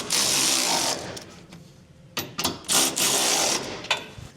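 Hitch bolts on a 2024 Chevrolet Colorado are snugged down with a wrench, giving a run of rapid ratcheting clicks followed by scattered metallic clacks and short bursts, close up.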